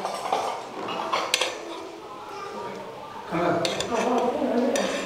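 Wet bowls and dishes clink and clatter as they are handled at a Vietnamese housewarming gathering, with scattered knocks and chinks over steady background chatter and people talking.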